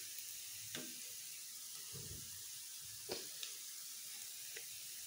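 Chicken pieces for homemade KFC-style fried chicken sizzle steadily in hot oil, a constant close hiss with a few soft knocks and scrapes as they are turned, no talking.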